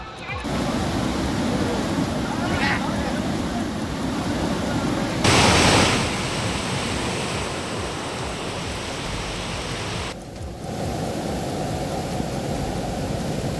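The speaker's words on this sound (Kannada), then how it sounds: "ಇತ್ತ ಬೆಳಗಾವಿಯ ಸವದತ್ತಿ ತಾಲೂಕಿನಾದ್ಯಂತ ಮಳೆ ಆರ್ಭಟ ಜೋರಾಗಿದೆ" Heavy rain and rushing flood water in Savadatti taluk, Belagavi, with water entering the Yellamma temple: a loud, dense, steady roar of downpour and flowing water, with a brief louder surge midway, nearby and continuous.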